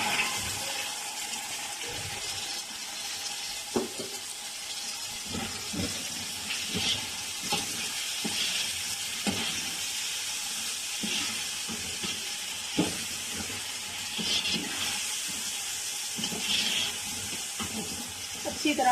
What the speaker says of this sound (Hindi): अच्छी तरह हमने इनको फ्राई करना है, गाजर और मटर